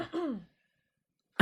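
A short raspy throat-clearing sound, then a pause of silence, and a brief sharp burst at the end.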